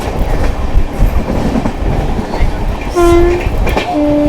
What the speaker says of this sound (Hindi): अभी हमारी ट्रेन स्किप करने जा रही है शामसी रेलवे स्टेशन को, पूरे अपने फुल एमपीएस पे, यानी कि 100 किलोमीटर।